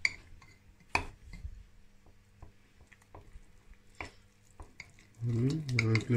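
Flour mixed with warm water for a day-two sourdough starter, heard as scattered wet stirring clicks and squishy scrapes in a bowl, then a brief burst of speech-like voice near the end.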